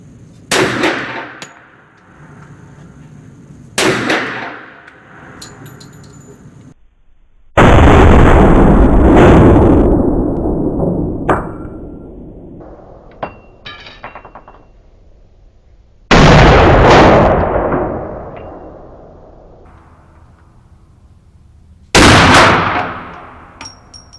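Walther pistol fired at an indoor shooting range at about 15 feet, several loud, sharp reports spaced seconds apart, each with a booming echo that trails off, plus clatter and small clicks between shots.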